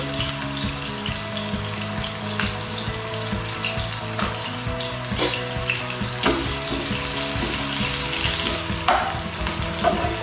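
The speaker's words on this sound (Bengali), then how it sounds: "পেঁয়াজ রসুন কুচি আর একটু রসুন কুচি দিয়ে দেবো" Finely chopped onion and garlic fry in hot oil with a loud, steady close-up sizzle, punctuated by occasional sharp crackles and pops, and no one speaking.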